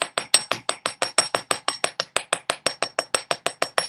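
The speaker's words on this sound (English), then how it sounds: "this is a steel bench block and a hammer" A ball peen hammer strikes metal on a steel bench block to give a hammered finish for a beaded necklace. About two dozen sharp, ringing blows land close by in a fast, steady rhythm, with no talking.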